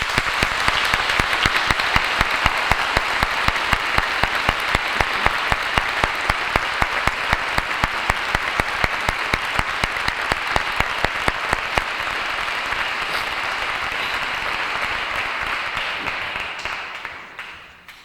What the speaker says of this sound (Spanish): Yo ruego un fuerte aplauso para ellos.